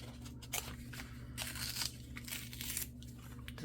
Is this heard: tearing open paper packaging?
yes